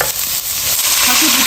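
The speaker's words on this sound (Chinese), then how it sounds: "锅里面少留点油，下小蒜末" Minced garlic sizzles loudly in a little oil in a wok, a dense close crackling hiss that keeps going throughout with no pause.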